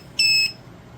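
A TMEOIIPY plug-in 4-in-1 smoke and carbon monoxide detector gives one short, shrill electronic beep, close and clear, followed by quiet.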